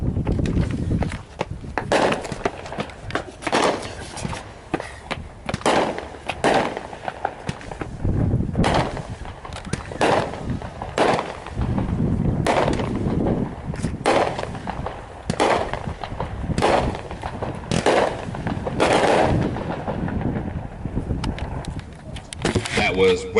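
Consumer firework called Red, White, and Bang going off at a Kansas fireworks demo night, a rapid string of loud cracking bursts and booms over about 24 seconds, with crowd voices murmuring underneath.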